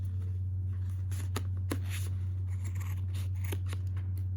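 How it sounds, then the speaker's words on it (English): Scissors snip through crochet yarn in a few quick, quiet cuts, set against a steady low electrical hum. "I'm gonna make a cut at the bottom here"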